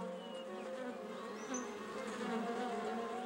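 Bees buzz steadily and softly near flowers, a continuous droning hum with slight swells as they move, no voices over it.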